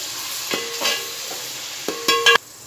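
A spoonful of ginger garlic paste is added to hot oil with browned onions, giving short bursts of sizzling and scraping stir noises with brief quiet gaps between them, close and fairly loud.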